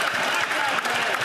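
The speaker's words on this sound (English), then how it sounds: "They're turning around and clapping." Members of parliament clap during a heated question period in the House of Commons. The dense clapping and crowd noise fill the short stretch evenly, with a hint of voices mixed in.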